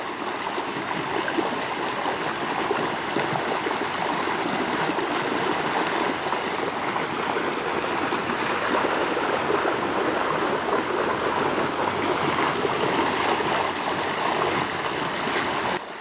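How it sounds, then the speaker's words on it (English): A creek swollen by heavy recent rain rushes in a dense, continuous roar of water, steady and close throughout with no voices. "The creek is flowing very strongly."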